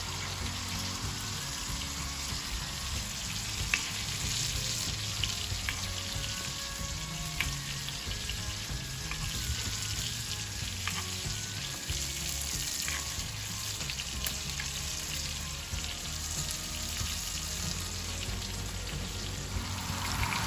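Reverse-seared steak sizzles in a pan with butter, a continuous close crackling fry with faint spoon-basting clinks and no talking.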